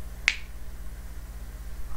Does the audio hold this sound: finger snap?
yes